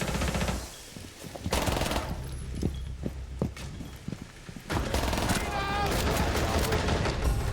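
Gunfire in the video game Rainbow Six Siege: sharp single shots and rapid automatic bursts, some loud and close, others more distant, with a dense stretch of firing in the last few seconds.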